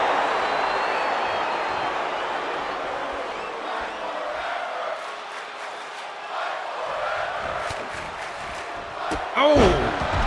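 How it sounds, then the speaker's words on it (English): Video game arena crowd in a wrestling match sustains a loud, steady wash of chanting and cheering throughout, with a brief thud and sharp cry near the end. "Crowd chanting fight forever."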